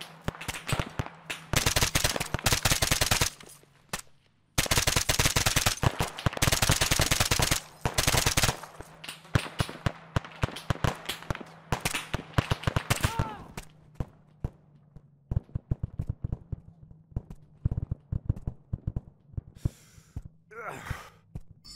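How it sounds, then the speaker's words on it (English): Bursts of automatic gunfire crackle through a military shooter battle, long dense volleys early on giving way to scattered shots and pauses, loud and close, with breathy voice sounds mixed in. "Taking fire, you're free to return fire."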